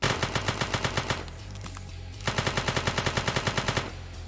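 Automatic gunfire in a video game comes in two loud, close bursts of rapid rhythmic shots, about eight per second, separated by a short lull of fainter game sounds.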